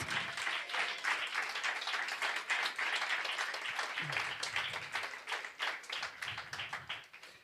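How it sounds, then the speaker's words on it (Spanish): A church congregation at a Spanish-language night vigil claps together in a sustained, dense burst of applause, with voices mixed in beneath the clapping throughout. "Dele una ofrenda de palmas a ese Rey maravilloso."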